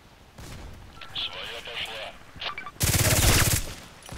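Glock 18 automatic pistol fire in the video game Contract Wars: a loud, dense burst near the end follows scattered shots and game effects, with someone talking over the earlier part.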